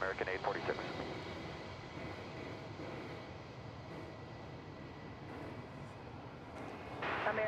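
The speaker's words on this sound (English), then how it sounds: "That American jet coming in from Puerto Vallarta in Mexico" An American Airlines jet arriving from Puerto Vallarta, Mexico, landing at Dallas/Fort Worth airport, heard as a broad, steady distant roar that swells slightly at the end, with muffled voices underneath.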